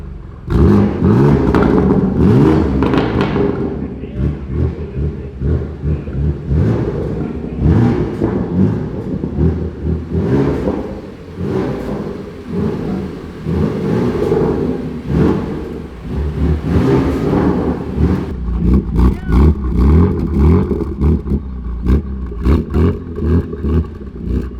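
A BMW M2 Competition with a modified, very loud exhaust revs repeatedly, its deep roaring bursts rising and falling over about 25 seconds, close and dominant with no talk over it.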